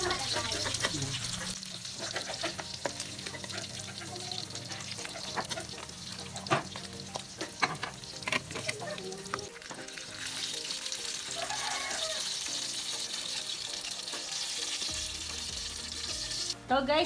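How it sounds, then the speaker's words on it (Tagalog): Pork belly (liempo) sizzles and crackles steadily as it fries in a pan, with continuous close spattering and occasional sharp pops and stirring clatter over about seventeen seconds. "nagpiprito po tayo ng pritong liempo"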